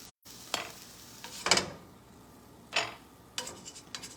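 A single scrambled egg cooks in a pan with a faint sizzle, broken by several short scraping stirs of a utensil against the pan, quiet and close with no talk.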